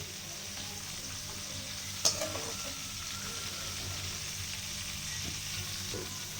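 Manathakkali (black nightshade) berries fry in oil with a soft, steady sizzle close by, broken once by a brief clink or stir.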